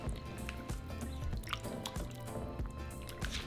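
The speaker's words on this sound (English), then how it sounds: "We're just going to rinse it until the water is clean." Pork fat is swished and rinsed by hand in a bowl of water at a sink, with wet squishing, sloshing and dripping sounds that keep going without a break.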